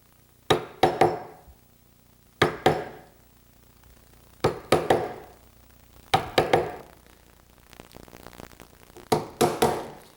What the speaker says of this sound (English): The next step is to chisel it out.